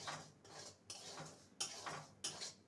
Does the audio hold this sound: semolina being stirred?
yes